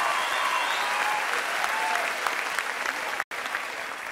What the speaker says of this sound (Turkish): Ya bir büyük alkış daha alalım.